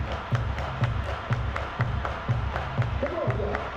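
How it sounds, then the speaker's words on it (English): Roller derby crowd at a Rose City Rollers bout clapping in a steady, even beat about twice a second, with music and voices underneath in a large echoing venue. "Everybody clap your hands."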